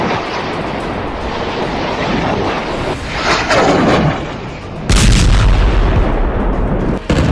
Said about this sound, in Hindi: लेबनान में धमाका, इजराइल में ब्लास्ट